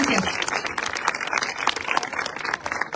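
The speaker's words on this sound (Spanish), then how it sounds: "un aplauso para todos los jiquilpenses" Audience applause at an outdoor street lighting inauguration on a city avenue, a lively stretch of many people clapping with crisp overlapping hand claps, loud and sustained across the whole moment.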